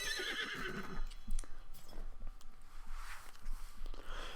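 A horse in Zelda: Breath of the Wild whinnies after being revived, a breathy neigh at the start followed by soft clip-clop steps and light rustling, moderately loud and fairly close.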